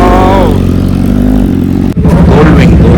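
Superbikes including a Kawasaki Ninja and a Ducati pass loudly on a Delhi road during a Sunday breakfast ride, their engines droning close by, with a sharp break near the end before another bike roars past.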